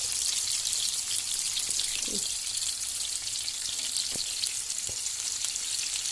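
Breakfast food frying in a pan, a dense steady sizzle with a few faint clicks and soft knocks, close and continuous, without speech.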